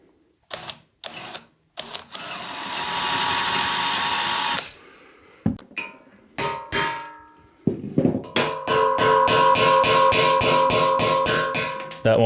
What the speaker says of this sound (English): I'm just going to drill that out so we can reinstall new rivets once the frame is powder coated.